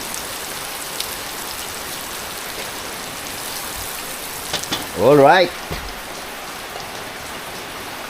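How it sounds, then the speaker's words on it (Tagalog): Steady, dense rain hisses throughout, with a brief spoken phrase in the middle. "kasi grabe ang ulan"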